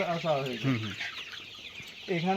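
Sonali chickens on a poultry farm cluck in short, nasal bursts nearby, with two quick calling phrases at the start and another at the end, separated by a quieter stretch of farm ambience.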